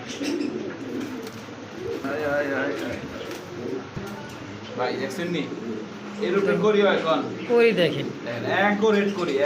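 Someone talks while pigeons coo nearby in low, throaty bursts beneath his voice, with a few higher chirps mixed in.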